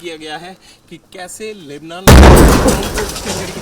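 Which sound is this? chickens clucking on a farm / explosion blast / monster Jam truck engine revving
explosion blast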